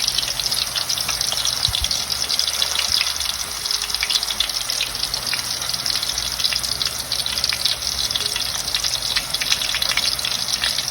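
Sweet potato slices fry in hot oil for chips, a steady loud sizzle and crackle that holds on without pause, with no talking.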